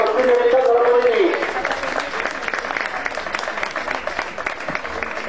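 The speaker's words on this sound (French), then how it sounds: "Voilà, on peut l'applaudir, un grand bravo à Rabanne Éric" Warm applause rises from the crowd in a bullfighting arena for a competitor, loud and sustained, with a voice calling out over it at the start before the clapping settles into a steady patter.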